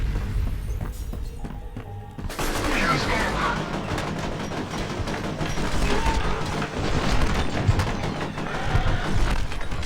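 Combat in the F.E.A.R. video game: a quieter stretch gives way to a sudden burst of gunfire and explosive impacts, continuing as rapid, loud, overlapping shots and blasts, with someone talking over the action.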